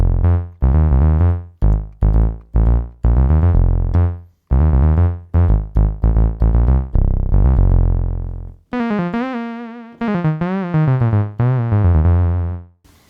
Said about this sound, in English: Here's that bass sound that I made for the Hammond.